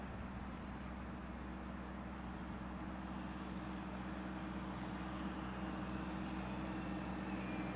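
An E-flite UMX Air Tractor, a small 1.5-meter RC model plane, flies with full flaps, its electric motor buzzing steadily at a distance over a continuous low outdoor rumble, with a faint high whine rising near the end.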